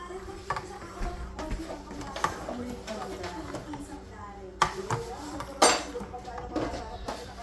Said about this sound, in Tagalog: Haluin pa.